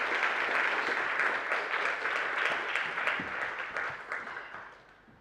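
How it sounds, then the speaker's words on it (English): Audience applause at a conference session, a steady wash of many hands clapping that holds evenly and then tapers off toward the end. "Let's do one applause and then another."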